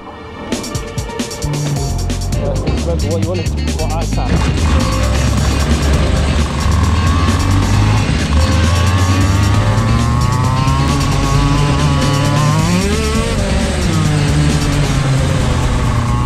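A KZ shifter kart engine screams at high revs while being driven on track, loud and continuous with rising and falling pitch through gear changes and a few sharp pops at the start.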